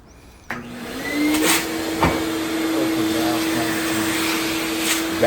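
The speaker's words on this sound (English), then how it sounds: "Vacuum the interior of the dryer." A vacuum cleaner starts up with a sharp click and settles into a loud, steady whine while it cleans the interior of a clothes dryer that is running rough, with brief bumps and knocks as the nozzle moves around.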